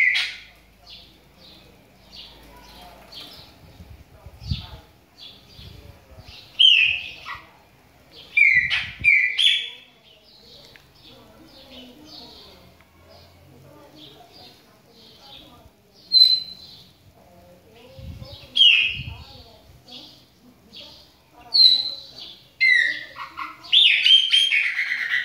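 Black songbird (viúva) singing at close range, bright whistled phrases and chirps in separate bursts with quiet gaps between, a few low thumps and faint background noise underneath.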